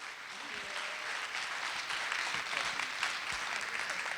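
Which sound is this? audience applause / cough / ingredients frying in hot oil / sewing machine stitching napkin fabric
audience applause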